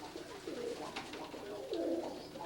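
A dun pigeon cock coos softly nearby, two rolling, throaty coos in quick succession, faint and alone against light background noise.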